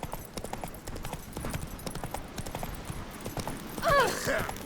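Rapid, rhythmic hoofbeats of a galloping horse in the video game The Witcher 3: Wild Hunt run steadily throughout, with a brief horse whinny near the end.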